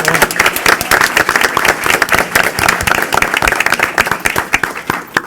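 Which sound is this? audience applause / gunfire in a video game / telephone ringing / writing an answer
audience applause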